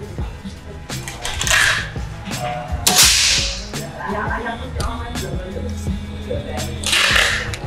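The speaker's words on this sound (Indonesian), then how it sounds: "Dan kita coba lagi tembakan yang berikutnya." Shots from a Black Panther side-lever air rifle give two sharp, close cracks a few seconds apart, with someone talking between and around them.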